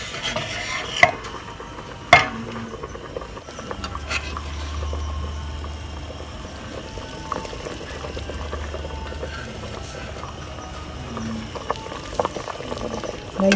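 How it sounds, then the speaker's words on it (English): Potatoes and vegetables boiling in a pot for a steak and ale chowder, a steady bubbling simmer close by with a few clanks and stirring sounds, faint talk in the background. "The potatoes have been boiling for about 5 minutes, so we are going to add our veggies."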